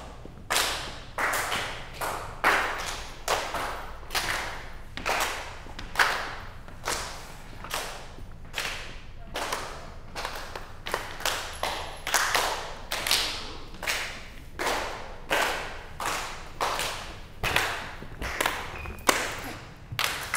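A group of people clap hands together with partners in an activity session, sharp, close claps in steady rhythmic bursts, repeated again and again with little talk.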